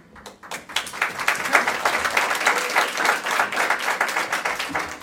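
Audience applause fills a council meeting room, a steady wash of many hands clapping that swells quickly and holds at an even, moderately loud level throughout.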